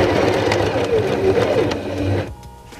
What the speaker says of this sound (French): Donc je vais coudre un petit bout.